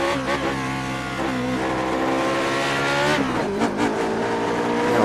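The Lotus 49 race car in the iRacing sim screams through its rev range, its engine note climbing and dropping with gear changes and a hint of tire squeal, loud and continuous with no talking.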